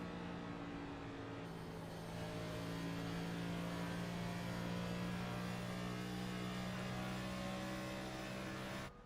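A stock car engine in a NASCAR Cup race at Charlotte holds a steady, loud, continuous drone throughout, with no clear gear-change breaks standing out.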